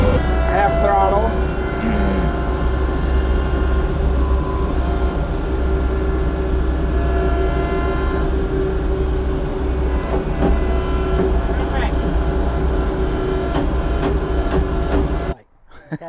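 SHEAREX mulcher engine holding a steady drone at half throttle, a loud continuous hum with a constant tone, a few faint knocks over it, and a sudden stop just before the end.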